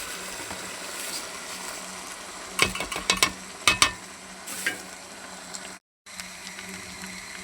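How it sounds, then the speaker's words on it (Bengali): Washed rice frying and being stirred in a pot with chicken for biryani: a steady low sizzle with a run of sharp scraping strokes of the spoon in the middle, then a brief drop-out. "চালটা ভালো করে ভাজা হয়ে গেছে"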